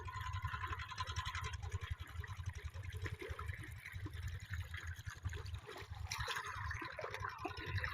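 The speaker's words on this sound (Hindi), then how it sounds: "तो देखिए खेत में पानी चल रहा है, ये पानी गिर रहा है खेत में।" Irrigation water running and splashing into a wheat field, a steady close trickle and gurgle that goes on throughout without pause.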